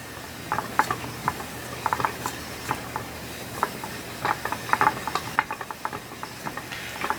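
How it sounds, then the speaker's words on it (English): A Knitter's Pride yarn cake winder turning a hank into a cake gives quiet, repeated mechanical clicks and soft ratcheting ticks over a low steady whir, close by with no talking. "the Knitter's Pride cake winder is probably one of my favorite tools just because it's so quiet"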